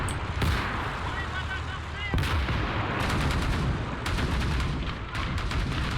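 Anti-tank weapon fire and gunfire in the Call to Arms video game, aimed at a T10 tank: several sharp, loud blasts with dense battle noise in between and some voices mixed into the din.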